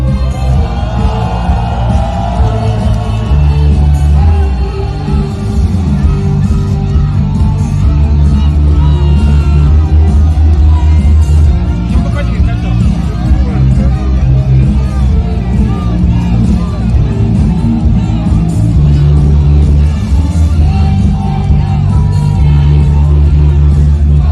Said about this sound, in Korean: 큰 박수와 함성으로 맞이해주십시오.